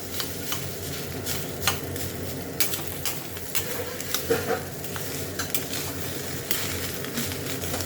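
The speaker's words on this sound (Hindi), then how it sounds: "ट्राई करना कि आप चावल को हल्का सा भून लो, के साथ सारी चीज़ें कोट हो जाएंगी अच्छे से।" Rice being lightly roasted and stirred in a kadai for jeera rice, a continuous gritty scraping and soft sizzle with frequent spoon strokes against the pan, close and steady throughout.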